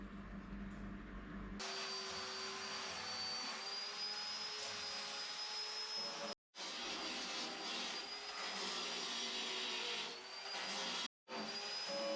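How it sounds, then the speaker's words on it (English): Steady high-pitched whine of an angle grinder on a 1953 Morris Minor during welding and rust repair, running loud and continuous with two brief cutoffs. "got Seth out there welding up his little Morrie grinder. Doing well, welding and grinding."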